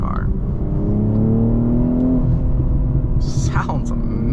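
A 2023 BMW M240i accelerates in Sport Plus mode, its engine a deep steady rumble with a rising tone heard from inside the cabin, while a person speaks briefly near the end.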